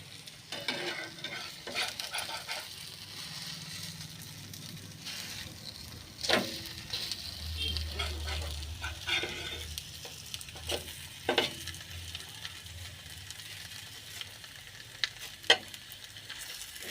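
Thick peanut dosa batter frying on a hot pan, a steady soft sizzle with occasional scraping and stirring clicks close by, no voices.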